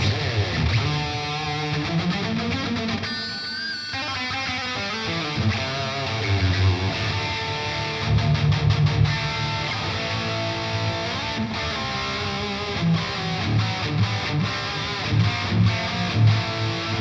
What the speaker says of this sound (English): I can also use this patch for maybe a solo with a distortion channel.